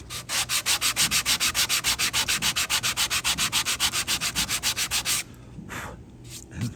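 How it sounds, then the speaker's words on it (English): A sanding block with 120 or 150 grit rubs over a freehand wood inlay in a steady run of about thirty quick, loud, even back-and-forth strokes, then stops, leaving quieter handling noise. "I'm going to just use a sanding block, and this has like"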